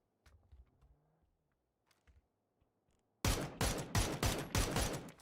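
Gunfire from the battle royale game PUBG during a competitive esports match: after quiet near-silence, a loud rapid burst of shots erupts and continues in dense, repeated volleys to the end.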